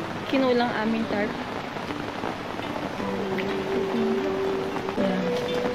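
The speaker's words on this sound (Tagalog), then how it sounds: "Lakas na ulan dito sa Mahogany Campsite." Heavy typhoon rain pours steadily at the Mahogany Campsite near Wawa Dam, drumming on a tarp over a hammock camp, with people talking and singing over the constant wash.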